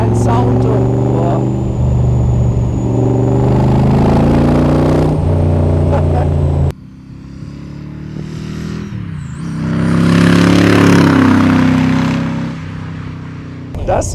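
A 1964 AC Cobra 427 SC MK III with a 7-litre V8 rumbles loudly at close range, holding a deep steady drone before the note shifts and swells into a revving surge.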